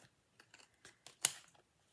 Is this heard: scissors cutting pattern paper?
yes